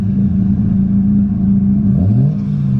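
A Nissan 240 drift car's engine idles loudly and roughly at close range, then blips into a short rising rev near the end, with no talking.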